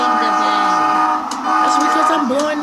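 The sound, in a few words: train horn blowing in a train simulator video game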